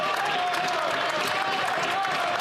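Parliament members on their feet clapping in the chamber, a dense steady wash of applause with crowd murmur and voices mixed in, sustained throughout.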